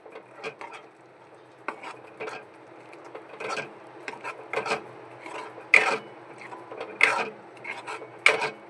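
A spoon scrapes and rubs in quick, irregular strokes, working ground spices and paste together for a Maharashtrian prawn masala. The sound is close and fairly quiet, with sharper clinks now and then.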